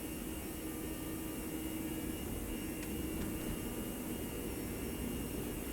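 A steady, loud jet engine roar of an airliner on its takeoff roll in a flight simulator game, continuous broadband rumble and whine throughout with no talking.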